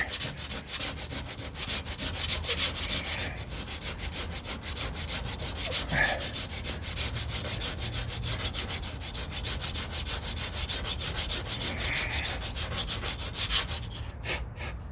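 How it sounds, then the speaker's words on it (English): Steady scraping and rubbing as a screwdriver cleans out a hole in the rear fiberglass body of a 1969 Corvette, a continuous close-up rasp running without pause. "I take this screwdriver a little bit and kind of clean out the inside a little bit"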